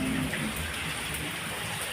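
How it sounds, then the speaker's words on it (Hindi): Heavy rain pours down outdoors in a steady, dense hiss that stays loud and even throughout, with no voices. "ये देखिए ज़बरदस्त वाली बारिश, बहुत शूट कर रही है।"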